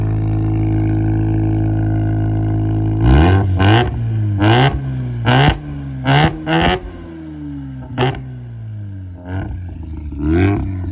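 A Mazda FC RX-7 with a dual-exit exhaust idles with a deep, loud exhaust rumble, then the engine is revved hard in a series of quick, sharp blips.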